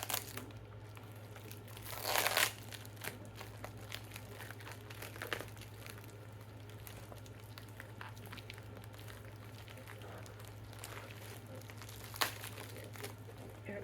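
Crinkling and tearing of a taped-up package being pulled open, with a loud burst of ripping tape early on and scattered crunches after, over a steady low hum; a sharp tear stands out near the end.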